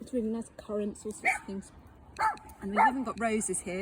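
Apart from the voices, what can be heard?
dog barking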